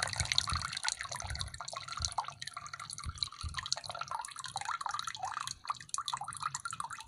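Fertilizer solution drips from a lifted, drained plant pot, making irregular close-up patters and splashes of liquid throughout, alone without talk.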